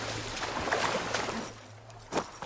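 Swimming through water in the video game Horizon Forbidden West, heard as a continuous splashing, sloshing wash with a low steady hum beneath it and a brief louder splash near the end, with no speech.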